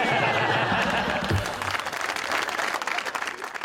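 Audience at a talk show breaking into loud applause, a dense roar of clapping that starts strong and continues with individual claps standing out as it thins slightly toward the end.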